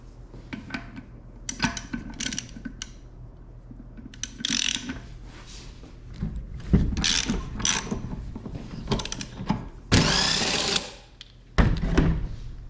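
A hand tool loosening a Jeep tire gives close, mechanical bursts of ratcheting clicks in uneven spurts, separated by short pauses, with nobody speaking.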